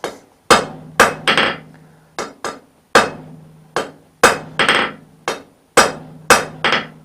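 Blacksmith's hammer forging a diamond collar weld on flat bar, striking hot steel on an anvil: about a dozen sharp, loud ringing blows, singles and quick doubles, in a steady working rhythm.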